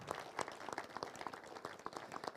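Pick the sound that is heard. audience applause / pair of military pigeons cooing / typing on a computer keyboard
audience applause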